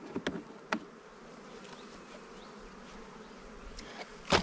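Honeybees hum steadily from an opened hive, a soft close buzzing with a few sharper passes of individual bees near the listener, faint overall and free of speech.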